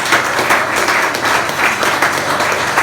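A church congregation claps steadily through a sermon, continuous dense applause filling the room with faint pulsing rhythm and no voices over it.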